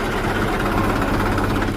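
Tractor-driven water pump engine on a farm running steadily at idle, a loud, even low-pitched drone with no talk.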